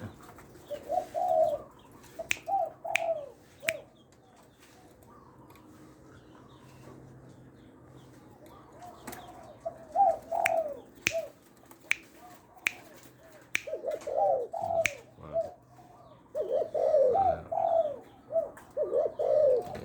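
Repeated low cooing phrases from a spotted dove come in bursts, separated by a quiet gap, with sharp clicks and snaps scattered across the recording.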